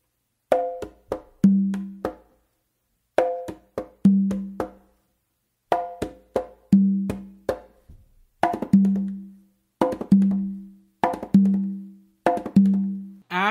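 A combination on conga drums repeats in clear cycles, with slaps and fingertip taps leading into a ringing open tone on the tumba, played close and steadily with short pauses between phrases.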